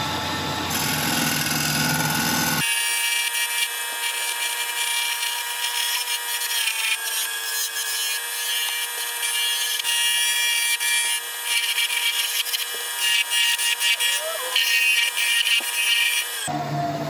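A figured ash bud vase spinning on a woodturning lathe while a tool refines its lines and edge, a steady bright whirring scrape running continuously and close, with the pitch shifting slightly as the cut changes.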